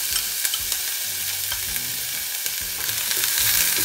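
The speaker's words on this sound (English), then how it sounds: "I'm going to put in first the ground up garlic and ginger. And then right away the cut up scallion." Ground garlic, ginger and cut scallion frying in a heated pan, a dense steady sizzle close up with occasional stirring scrapes and clinks, no talk.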